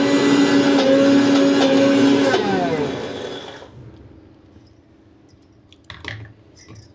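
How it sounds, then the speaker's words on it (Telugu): A mixer grinder whirs loudly and steadily as it blends ridge gourd peel chutney, its motor pitch sliding down as it is switched off, followed by quiet handling clatter nearby. "మిక్సీ పట్టుకుందామండి."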